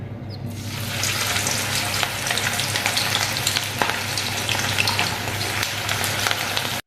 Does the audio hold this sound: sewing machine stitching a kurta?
no